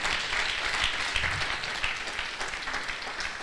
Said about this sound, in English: another round of applause for our guest lecturer